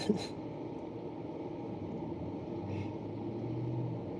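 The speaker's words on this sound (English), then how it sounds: "That engine sound you hear right now is synced up with a bunch of cars outside" Car engines run outside a window as a steady, low, continuous rumble, moderately distant and even in level throughout, with a brief higher hiss near the start.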